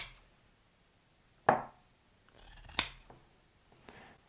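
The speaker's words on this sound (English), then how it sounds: "we're just going to snip and trim the ends and just snip across the corners" Scissors snip the trimmed ends and corners of sewn fabric for a cardigan, a few sharp, close, isolated cuts separated by quiet pauses.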